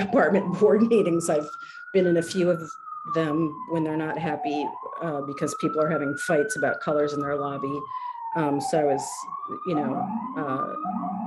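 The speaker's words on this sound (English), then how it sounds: "Sorry about the sirens." A siren wails steadily in the background, its pitch rising and falling in long sweeps, while a person keeps talking over it.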